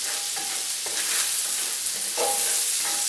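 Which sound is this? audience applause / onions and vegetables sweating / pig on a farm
onions and vegetables sweating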